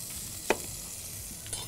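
Beef steaks with garlic in a frying pan give off a soft, low sizzle that is fading as the heat is off, with two brief scraping or stirring clinks and a louder clatter at the end.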